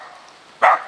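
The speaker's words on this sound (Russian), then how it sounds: "Собака." A single short dog bark or yelp at middle distance, on a taiga homestead in the Komi region where a bear was approaching, rising briefly above a quiet background.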